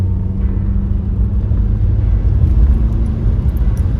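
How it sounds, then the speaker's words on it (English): A 2015 Honda Accord accelerating at roughly half throttle, heard from inside the cabin as a loud, steady low engine and road rumble that holds throughout with no talking. "I guess I may do a little bit of an acceleration."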